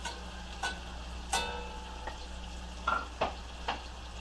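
Onion frying in a pan for chipotle rice gives a quiet, low sizzle broken by a few sharp clicks and taps of a utensil against the pan.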